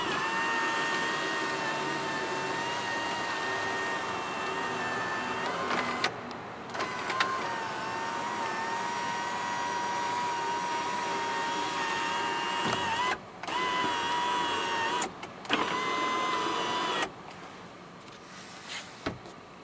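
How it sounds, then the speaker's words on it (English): A full power sunroof on a 2014 Toyota Tundra 1794 Edition hums open with a steady electric motor whine under cabin noise, broken by a few brief gaps and clicks. "we do have a full power sunroof"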